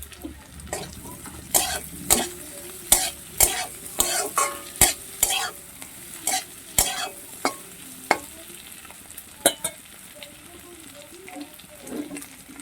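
Chopped onion fries in a pan for chili fish while a spoon stirs it in irregular scraping strokes over a low, steady sizzle, with a brief cough or throat clearing in the background.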